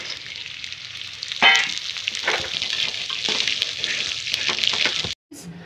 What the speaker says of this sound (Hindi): पहले हम चने को भून लेते हैं।